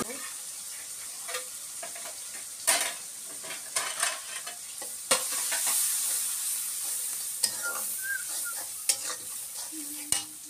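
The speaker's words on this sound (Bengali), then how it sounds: "এই যে মাছটা কষা রাখছি" Spiced fish being fried and stirred into a kosha in a pan, a steady sizzle broken by repeated sharp scraping and clacking of a spatula, varying in intensity.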